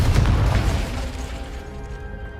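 A Confringo blast spell explodes in the video game Hogwarts Legacy, a loud low boom at the start that rumbles and decays over a couple of seconds into a fading tail.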